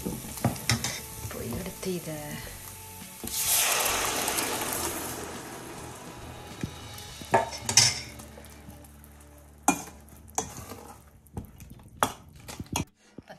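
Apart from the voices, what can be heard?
sautéing tomato thokku with chilli powder in a pan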